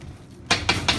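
Three quick clattering knocks ring out as pasta ingredients seasoned with nutmeg are mixed in a bowl, sharp and close after a quiet moment.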